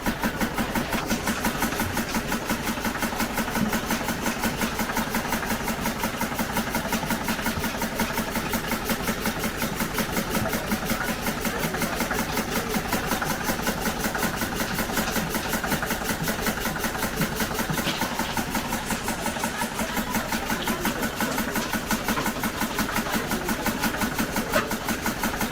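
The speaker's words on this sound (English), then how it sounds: "So this is a grinder." An engine-driven grinder runs at a steady, unchanging drone for the whole stretch, loud and close with a constant mechanical rattle and no speech, at a pressing workplace in Nigeria.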